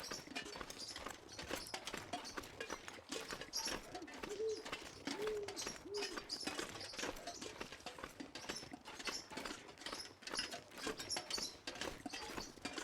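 Pet birds screeching back and forth at each other indoors, a continuous busy stream of harsh, overlapping squawks and chirps with a few cooing notes, steady and fairly loud throughout.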